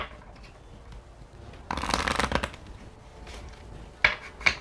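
Oracle of Oddities cards are riffled and shuffled close up in one burst of about a second, then two sharp snaps follow as cards are pulled from the deck, with no talking.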